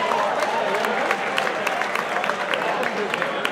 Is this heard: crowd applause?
yes